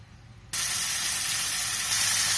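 After a quiet start, carom seeds, black pepper, cumin and salt for matar pulao drop into a hot pan and set off a sudden, loud, steady sizzle that holds to the end.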